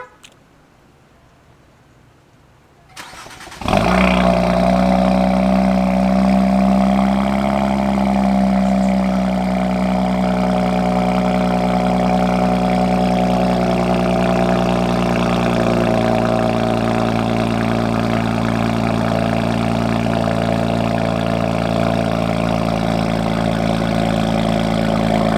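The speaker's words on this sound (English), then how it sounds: "I'm about to give y'all a little cold start real quick." Infiniti Q50 with a Borla exhaust fires up on a cold start after a few quiet seconds, then settles into a loud, steady, deep idle drone that runs unbroken to the end.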